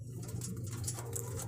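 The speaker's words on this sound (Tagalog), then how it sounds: "so magpapaliparin muna natin yung ating Warriors din yung mga kalapatid." Racing pigeons in a loft, soft cooing and low bird calls close by over a steady background hum, brief and fairly faint.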